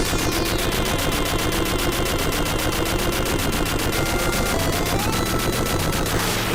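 Rapid, continuous explosions and gunfire from the video game Gunstar Heroes, a dense unbroken rattle of loud blasts with steady rhythm and no talking.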